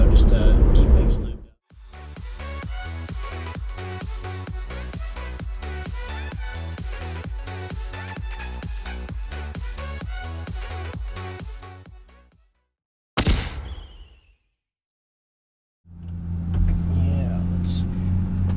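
A 1996 Ford Mustang GT idles and drives with a steady pulsing engine rumble for about ten seconds, then cuts out; a brief sharp noise and later another low engine hum follow.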